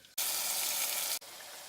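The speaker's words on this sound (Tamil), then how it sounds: "நம்ம குக்கரில் இந்த கழுவுன அரிசி பருப்பை அதில் மாற்றிடலாம்" Washed rice and moong dal tipped into a pressure cooker for ven pongal, heard as a single steady hiss-like pour lasting about a second, close and fairly loud, then a quieter wash of kitchen noise.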